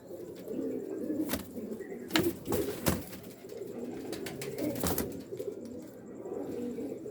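Soft, low pigeon coos repeating steadily, close by, with occasional wing flaps and bumps in a quiet enclosure.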